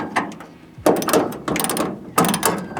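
Ratchet wrench tightening a bolt on a Holden Colorado rear setup, heard as three bursts of ratcheting clicks in close succession, near and fairly loud, with no talk.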